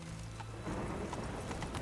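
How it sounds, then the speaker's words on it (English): Roach, Geralt's horse in The Witcher 3, gallops with rapid rhythmic hoofbeats, steady and moderately close, amid game ambience. "Run, Roach."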